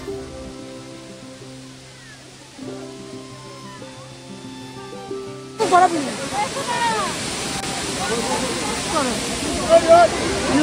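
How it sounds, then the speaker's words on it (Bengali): Bamni Falls, a waterfall in Purulia, rushes steadily in broadband noise; the first half carries a sustained hum of tones, then the water grows louder and fuller, with voices talking over it. "ভীষণ সুন্দর লেগেছে বামনি ফলস"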